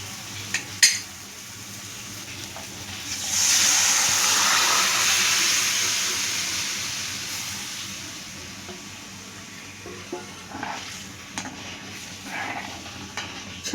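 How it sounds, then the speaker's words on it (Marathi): Chickpea masala is stirred in a pan right after boiled chickpeas are added to an oil-sizzling spice paste, giving a loud rush of frying hiss that slowly fades, with scattered spoon scrapes and clinks on the pan. "आता हे वाटप टाकून आपण चांगलं ढवळून घेऊया।"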